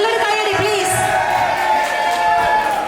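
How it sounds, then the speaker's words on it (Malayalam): Guests at an engagement party cheer and whoop in a loud, sustained crowd roar, with voices mixed into the noise. "നല്ലൊരു കൈയ്യടി പ്ലീസ്."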